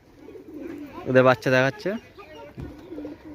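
Pigeons coo in a series of throaty, resonant calls close by, mixed with people talking nearby.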